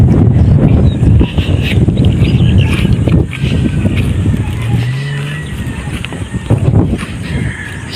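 Strong wind buffets the microphone in heavy, uneven gusts, with a low rumble and a brief passing tone partway through.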